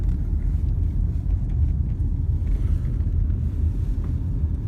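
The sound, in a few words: car driving along a country road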